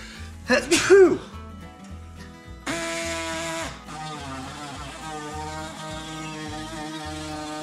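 A sharp, burst-like sneeze near the start, then steady background music with a thumping beat carries on.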